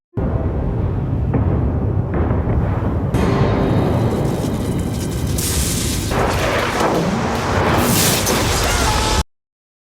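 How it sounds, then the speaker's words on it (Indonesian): Heavy rumbling booms and crackling bursts roll continuously, like loud thunder with sharp cracks, dense and close throughout before cutting off abruptly. "Langit seketika menggelap, awan hitam berkumpul, dan badai petir pun tercipta."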